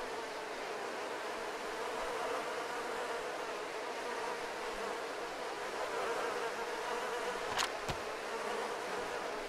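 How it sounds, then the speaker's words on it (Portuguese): Flies buzz steadily and close by in the DayZ survival video game, a constant insect drone filling the whole stretch, with a brief sharp click near the end. "o barulho dessas moscas incomoda muito"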